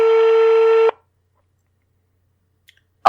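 A telephone tone sounds for a call, one loud steady electronic beep lasting under a second, then near silence broken by a faint click and a brief sharp noise at the end.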